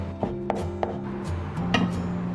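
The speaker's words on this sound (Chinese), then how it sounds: "然后泡好的干香菇我们切丝" A knife cuts soaked dried shiitake mushrooms into shreds on a board with about five crisp, evenly spaced chops, close and clear.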